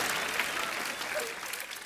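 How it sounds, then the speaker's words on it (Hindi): Applause from a studio audience during a Hindi comedy show, steady and dense throughout, with a brief louder burst at the end. "ओए तालियां भी"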